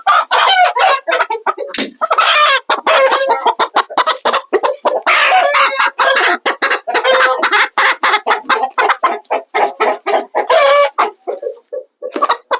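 Chickens cluck loudly and continuously up close, with a rooster crowing among them in a busy, choppy farmyard chorus.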